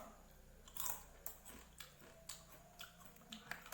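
A crunchy snack is chewed in a quiet room during a classroom demonstration, with a series of sharp, irregular crunches and bites spaced about half a second apart, faint and close, with no talking.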